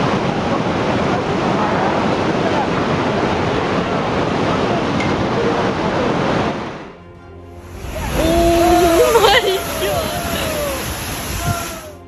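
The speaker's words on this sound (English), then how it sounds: "Huge waves crashed into coastal buildings in Kauhu Kona, like the ocean's fury." Powerful tsunami waves crash and surge against coastal buildings during Japan's March 2011 disaster, a loud continuous roar of churning water that drops out briefly, then returns with noise and higher tones.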